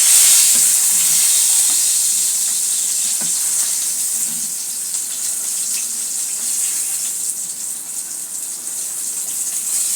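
Rohu fish frying in hot oil, a bright steady sizzle that starts loud and eases slightly, heard alone without voices.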